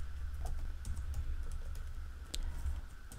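Quick, light keystrokes clatter on a computer keyboard at close range in uneven bursts, with one sharper key hit near the end, no voices.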